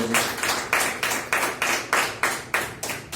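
A church congregation claps in time, sharp regular beats roughly every third of a second forming a steady rhythmic pattern, close and moderately loud with no talking.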